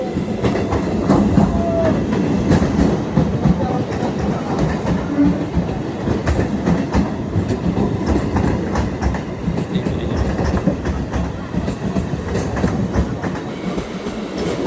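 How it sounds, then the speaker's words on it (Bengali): A local train rolls past at night, with a steady, loud rumble and rhythmic clickety-clack of wheels over rail joints that hold up through the whole stretch, close by and with no voices. "ট্রেন আসছে একটা"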